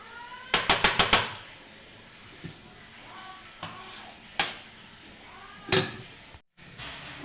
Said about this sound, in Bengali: তো চলো আগে আমি ভাত বেড়ে নিই।